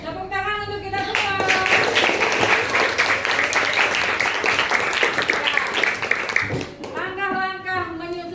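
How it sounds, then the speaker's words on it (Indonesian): A classroom group of students claps together in sustained applause of about six seconds, loud and dense, with talking heard before and after it. "Tepuk tangan untuk kita semua"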